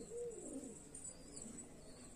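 Pet pigeons kept by a breeder give a faint, low cooing at the start, heard from a distance over a soft, steady background hiss.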